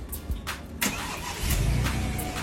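A car engine turns over and catches amid a busy outdoor street, with broadband mechanical noise and a few sharp transient bursts throughout, then a steady low rumble continuing near the end.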